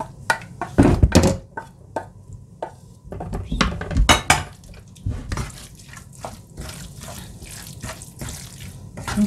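Gratin ingredients stirred together in a dish with a utensil, giving bursts of clattering, knocking and wet scraping sounds in irregular clusters, loud and close, with quieter gaps between.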